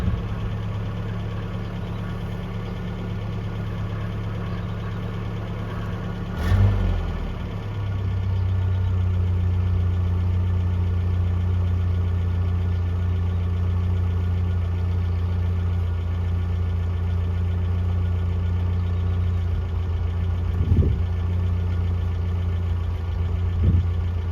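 A 1982 Toyota SR5 4x4 engine idles steadily and loudly for the whole stretch, with a brief bump near the start and a couple of faint knocks later on.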